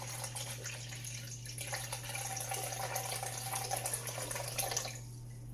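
Water pours steadily into a container while measuring about 600 grams for sourdough, a continuous close splashing hiss with no talk.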